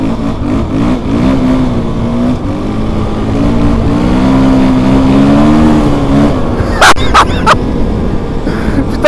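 A car accelerates hard on a slippery snow-covered road, its engine note climbing steadily and loudly for several seconds before dropping, followed by a few sharp knocks near the end.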